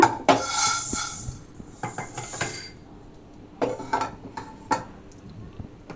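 Dry-roasted peppercorns scraped and lifted from a pan, making a few sharp metallic clinks and scrapes, loudest near the start and again around the middle, with quiet gaps between and no talking.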